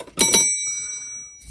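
A bright notification bell rings twice in quick succession, and its clear, pure tone then rings out and fades over about a second.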